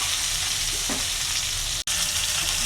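Tomatoes fry in a pan with salt, turmeric and chili, a loud, close, continuous sizzle with a brief stirring scrape and one momentary cutout, with no talk.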